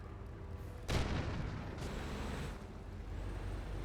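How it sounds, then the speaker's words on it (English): A landmine explodes in a Company of Heroes battle, a sudden loud boom rising over the steady rumble of the battlefield, then rolling and fading while the din continues. "Landmine detonated right there."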